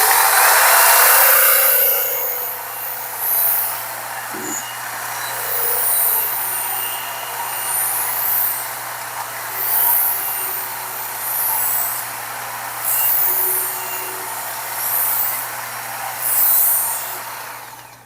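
Belt grinder sharpening a small hewing axe, a steady high whirring hiss with the blade pressed on in repeated rhythmic passes, loud and close with a constant low motor hum underneath.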